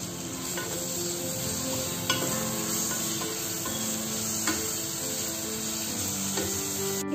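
Ginger garlic paste sizzles in a pressure cooker with a constant close frying hiss, broken by a few faint clicks of a spoon stirring.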